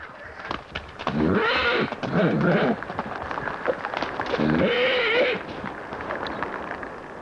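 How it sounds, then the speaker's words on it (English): A Newfoundland pony stallion neighs twice, loud and close, each whinny rising and falling over about a second, with a quieter snort and breathy noise between and after. "When Andy Fraser found this fellow, he was little more than a ghost horse"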